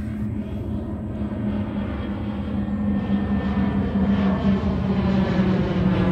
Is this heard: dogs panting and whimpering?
no